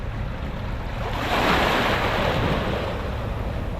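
Sea waves break on a pebble beach on the Welsh coast, a steady rushing roar that swells into a louder wash midway and then settles, with wind buffeting the microphone.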